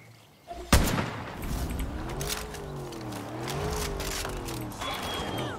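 A shotgun blast in the video game Far Cry New Dawn, a single sharp, loud shot followed by a sustained rumbling engine-like drone with shifting pitch, no speech.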